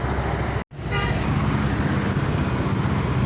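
A bus passes along Jalan Soekarno-Hatta in Palembang amid a steady, close roar of roadway traffic, with a brief horn-like toot near the start and one short dropout.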